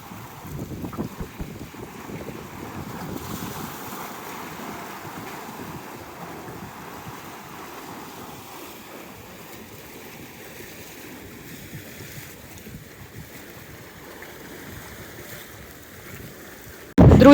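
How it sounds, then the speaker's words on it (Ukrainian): Sea waves wash over a pier in Odesa and splash in a steady churning rush, with gusty wind buffeting the microphone throughout. "з цього боку хвилі, і прямо вони захльостують на пірс"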